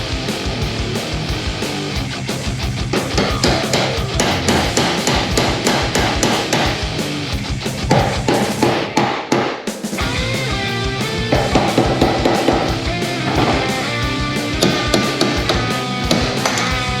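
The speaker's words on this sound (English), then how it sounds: "use a punch and punch that out." Rapid, loud metallic hammer strikes drive a punch against a car door hinge pin on a 1992 Firebird, coming in dense, steady bursts with a brief pause midway.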